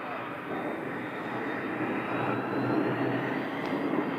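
A Cessna Citation business jet lands on runway 21 at Scottsdale, its engines giving a steady broadband roar that holds close and loud throughout with no talk over it.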